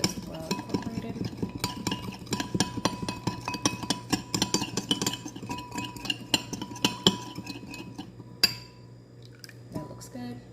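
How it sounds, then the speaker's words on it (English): Spoon scraping and clinking against a bowl while a za'atar chickpea salad with asparagus and cucumber is mixed, a steady run of rhythmic taps and wet stirring that stops near the end, leaving a few isolated clicks. "So let's mix that up really good until it's well incorporated."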